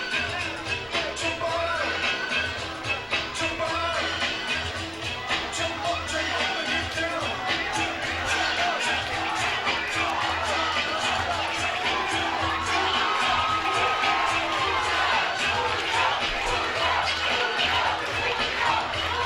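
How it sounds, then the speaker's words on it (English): Loud, steady crowd roar with cheering and shouts from a packed audience at a Muay Thai fight, sustained without a break and rising slightly toward the end. "This Tiger Showman's crowd is loudly supporting their fight"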